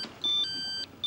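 A telephone rings with short electronic beeping tones in a steady repeating pattern, moderately loud, heard alone over faint room noise in an Egyptian television drama.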